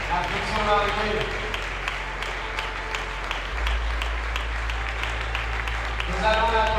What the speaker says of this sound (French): Restez sous nos applaudissements.